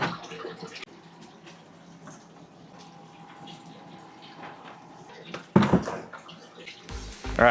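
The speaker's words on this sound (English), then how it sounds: "filling the tank back up" Water runs steadily into a 125 gallon aquarium tank, a low continuous wash under occasional talk, broken by louder splashes and bumps near the end.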